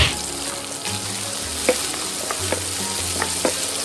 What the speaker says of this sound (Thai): ก็มาถึงขั้นตอนการผัดพริกเกลือนะครับ ก็พริกที่โขกไว้ ใส่น้ำมันไปนิดหน่อยพอนะครับ